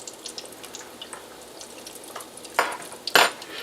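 Corn meal doughnuts from an 1893 recipe frying in a pan: a steady soft crackle of oil, with two louder hissing bursts near the end as they are moved or turned.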